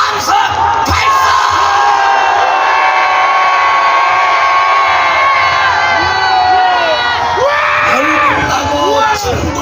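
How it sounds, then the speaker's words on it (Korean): A large crowd at an outdoor political rally roars and cheers, sustained massed shouting with rising whoops and yells, swelling again near the end. "그리고 우라통이 터지면 더 크게 함성 발사!"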